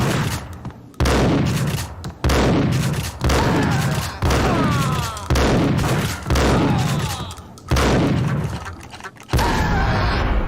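Loud, heavy bursts of gunfire in the video game Max Payne, a rapid series of booming shots every second or so with echoing tails filling the clip.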